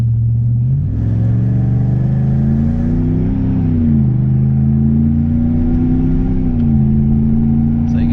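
A 2016 Ram truck with a Hemi engine and an engine and transmission tune pulls hard, its close, steady drone climbing in pitch and dropping at three firm gear shifts.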